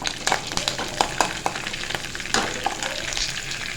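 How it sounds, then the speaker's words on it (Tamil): Carrots sautéing in a hot pan, with a steady close sizzle and frequent sharp clicks of stirring, loud and continuous with no talking. "எல்லாம் போட்டு வதக்கிக்கலாம்."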